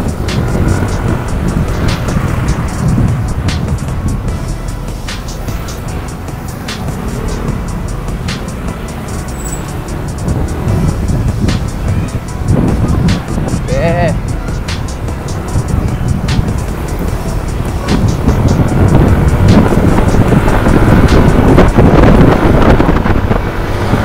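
A Yamaha NMAX 155 scooter cruising on an open road, its steady engine drone buried under constant heavy wind buffeting against the rider's microphone, loud throughout for about 24 seconds and swelling louder toward the end.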